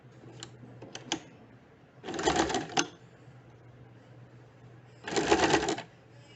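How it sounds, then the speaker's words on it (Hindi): A home sewing machine stitches the casing along the folded edge of a puff sleeve in two short, even bursts separated by a pause, with a few light clicks of handling before the first run. "हम इस तरह से सिलाई लगाना शुरू करेंगे केसिंग फोल्ड के साथ"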